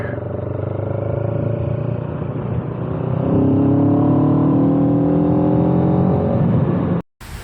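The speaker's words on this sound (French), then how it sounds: "Et la voici, cette CF Moto 700 CLX, un bicylindre de 699 cm3, 73 chevaux à 8500 tours minute" A CF Moto 700 CLX with a 699 cc twin-cylinder engine runs close by, holding a steady drone before its pitch climbs as the revs rise, then cutting off abruptly near the end.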